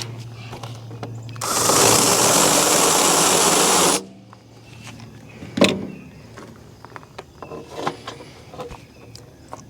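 A drill countersinks a hole in metal on an Eastonmade log lift being modified, a loud steady whirring grind lasting about two and a half seconds, then stopping, followed by faint handling clicks and knocks.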